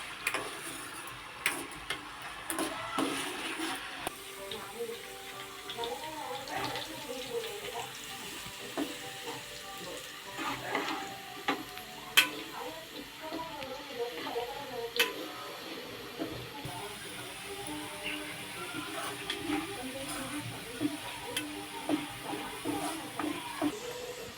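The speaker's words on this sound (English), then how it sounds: "So we will stir and keep it in this pan until it gets golden and brown." Potatoes fry in a pan while being stirred, a steady low sizzle broken by scraping taps and clinks of the spoon at irregular intervals, close and continuous with no talking.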